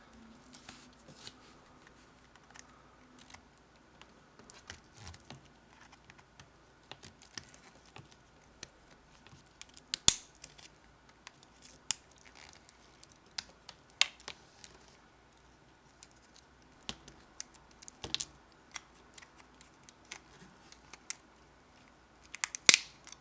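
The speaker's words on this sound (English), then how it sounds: "you'll have a better idea of where to cut to get the rest of this box out" A blade cutting out a box during a Darksai installation, quiet scattered snips and sharp clicks with long near-silent gaps, close up and without talk.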